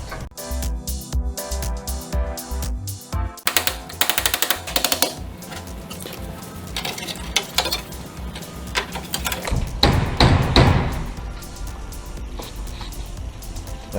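A metal panel on a rat-rod dually truck being hammered down before welding, with close, rapid bursts of sharp metallic blows in uneven runs that grow louder and denser partway through.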